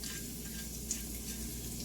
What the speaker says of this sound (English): we just let all those seasonings get very aromatic in the oil while they're frying